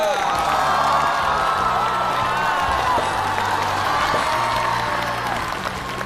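A studio audience at a comedy talk show bursts into sustained applause with cheering and whoops, a dense, loud wall of clapping that holds steady throughout before easing slightly at the end.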